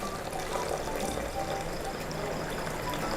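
Fish-boiling broth poured into a pot of Penang laksa gravy, a continuous splashing, gurgling stream of liquid heard close and fairly loud for the whole stretch.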